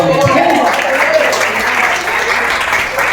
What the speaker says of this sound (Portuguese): Vamos receber a pastora aplaudindo